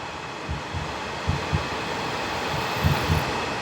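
A train rides along the rails, a steady low rumble with a few rhythmic wheel thumps over the track joints, heard from inside the carriage with no talking.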